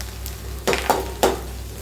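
Ginger garlic paste and green chili frying in a pan for a Tamil egg omelette kulambu, a steady low sizzle broken by a few sharp stirring scrapes, close and alone without talk.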